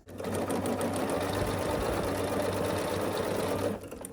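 A sewing machine runs steadily, stitching strips of quilt block squares together in one continuous, close, even burst of rapid mechanical whirring before stopping.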